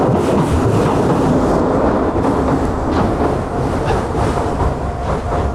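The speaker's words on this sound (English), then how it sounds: "Oh, there's the train." A train rumbles past at loud, close range, its steady heavy roar and rolling rail clatter filling the whole stretch without a break, heard from a bicycle commuter's roadside spot with no talking.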